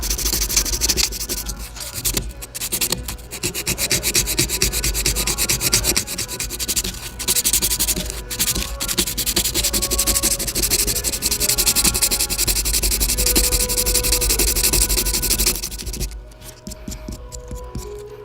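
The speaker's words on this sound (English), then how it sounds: "We're going to take some 60 grit and just get rid of those indentions" Hand sanding a hard polyethylene ski insert with 60 grit sandpaper, smoothing file marks: steady, close, loud rasping strokes in a continuous rhythm with brief pauses, no talking.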